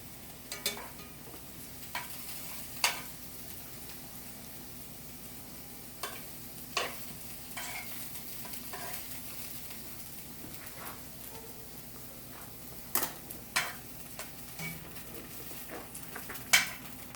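Steaks frying in a pan give a steady low sizzle, broken by a scattering of sharp clicks and taps from a utensil against the cookware.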